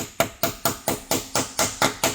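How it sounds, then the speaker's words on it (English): Hammer tapping a broken exhaust stud removal tool into a Porsche exhaust stud: nine sharp metallic taps in an even, quick rhythm, close and alone. "This is a hammer, so you just got to go in here and you tap it in"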